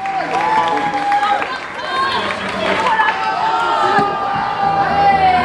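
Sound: concert audience applauding

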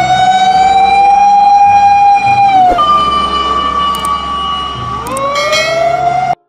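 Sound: toy fire truck siren

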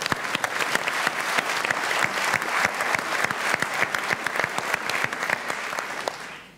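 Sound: audience applause after a dance-off performance

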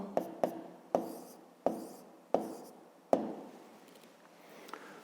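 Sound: writing numbers by hand on paper

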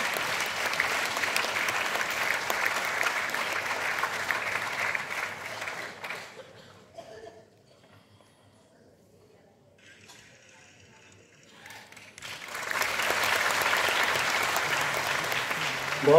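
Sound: applause for an honoured guest at a ceremony

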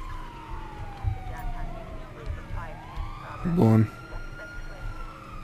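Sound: police siren in video game Grand Theft Auto 5

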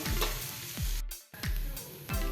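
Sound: stirring fried fresh turmeric mixture in a pan

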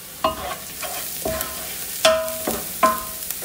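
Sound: onion frying with ground spices for kabsa

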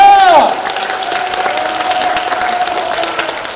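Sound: audience applause

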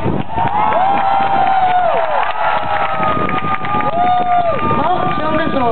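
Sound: audience applause and cheering at a music festival

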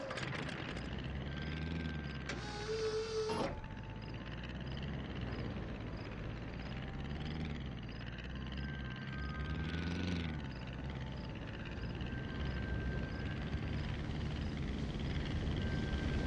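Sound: Banjo copter vehicle in video game Banjo-Kazooie Nuts & Bolts

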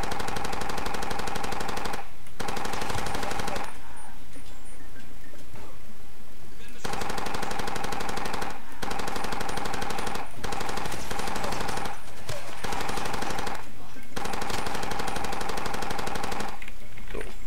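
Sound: machine gun fire in the video game Far Cry 2

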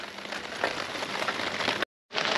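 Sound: rain falling on a leaking tent

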